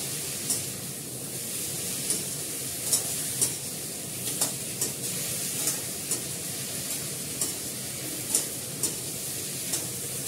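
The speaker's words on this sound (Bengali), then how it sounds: "ভালো করে নাড়াচাড়া করে ঢাকা দিয়ে বসিয়ে দেবো।" A Bengali vegetarian vegetable curry, lightly sweetened, is stirred in a pan, with a steady sizzling hiss and soft scraping strokes at an irregular rhythm. The sound is close and even, with no voices.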